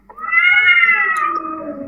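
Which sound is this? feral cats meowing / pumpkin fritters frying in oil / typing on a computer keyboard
feral cats meowing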